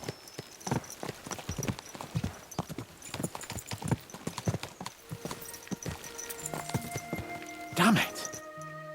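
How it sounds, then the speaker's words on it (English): Horses' hooves clip-clop in a steady, rapid rhythm as riders gallop in the medieval game Kingdom Come Deliverance 2, loud and continuous, with a brief whinny-like burst and tonal game music rising near the end. "Let's really spur these horses on, eh?"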